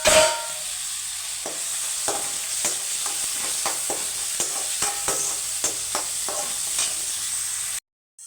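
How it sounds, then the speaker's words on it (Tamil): Chopped tomatoes and onions sauté in a pan for an okra tamarind curry, with a loud, steady sizzle. Repeated spatula scrapes and stirs tick through it, and the sound cuts off abruptly near the end. "நல்லா தக்காளியும் வெங்காயம் வதங்கிருச்சு"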